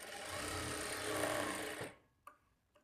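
A sewing machine stitches a blouse lining along a marked line. It runs in one steady, fast, close whir for about two seconds, then stops, followed by a couple of soft clicks.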